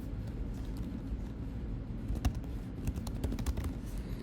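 Quiet, close clicking of a computer keyboard as an email address is typed in, with soft irregular keystrokes building into a denser burst toward the end over faint background hum.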